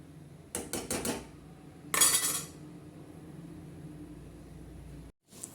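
A utensil scrapes and clinks against a metal pot of fenugreek-leaf rice in a few quick strokes, followed by a louder scrape, then a quiet background hum.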